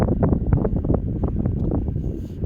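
Strong, gusty wind buffets the microphone at an outdoor RC airplane flying field, a loud continuous low rumble with rapid flutters and no talking.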